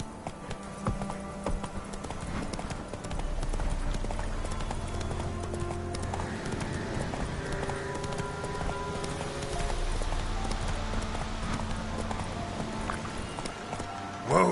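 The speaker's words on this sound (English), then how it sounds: "Whoa there, Roach." Rapid hoofbeats of a horse galloping in a video game clip-clop steadily under an ambient game soundtrack, with a voice and other game sounds mixed in.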